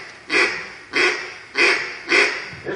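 A duck call blown to imitate a mallard hen's quack: four raspy, evenly spaced quacks close up, then the start of a fifth.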